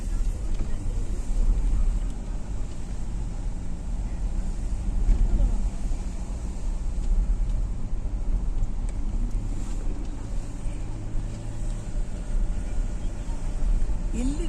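Wind gusts steadily across the high Nathu La mountain pass in fog, a loud constant rumbling buffet against the microphone, broken by faint voices.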